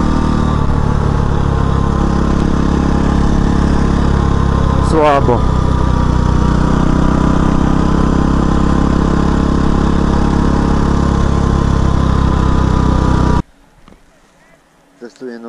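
Simson motorcycle engine running steadily and loudly at close range, a continuous buzzing drone with a brief sweeping rev partway through, then cutting off near the end, with someone talking over it.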